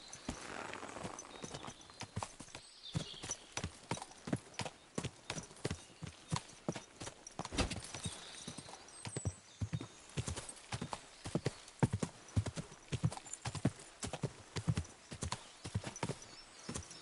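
Horse hooves clip-clop steadily in the medieval video game Kingdom Come Deliverance 2, a close, even rhythm of hoofbeats that carries on throughout, with a faint whinny along the way.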